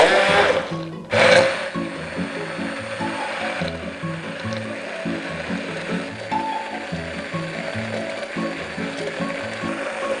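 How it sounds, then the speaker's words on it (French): A blender purees an almond sauce with other ingredients. After a short loud burst at the start, it runs as a steady, loud, close mechanical whir with a rhythmic churning pattern throughout. "Et on va mixer tout ça."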